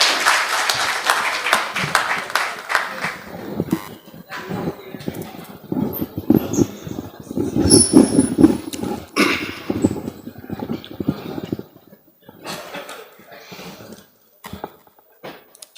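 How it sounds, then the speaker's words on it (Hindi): Audience at an All India Mushaira applauds to welcome the poet Afzal Allahabadi: loud, dense clapping that thins into scattered claps and then falls mostly silent with a few late claps. "जनाब अफजल इलाहाबादी, जोरदार तालियों से उनका इस्तकबाल किया जाए"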